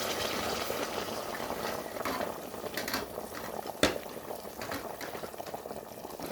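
Meat simmering in hot water in a pot for pilau, a steady bubbling boil with one brief sharp knock partway through.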